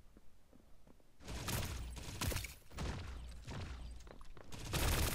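Rapid gunfire from the mobile shooter T3 Arena comes in loud, dense bursts through most of the stretch, with brief gaps between volleys.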